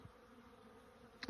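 Honey bees buzz around stacked hive boxes outdoors, a low steady hum that stays at a moderate, even level throughout, with a brief louder pass near the end.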